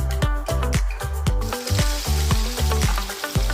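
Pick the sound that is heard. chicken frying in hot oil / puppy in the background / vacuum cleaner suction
chicken frying in hot oil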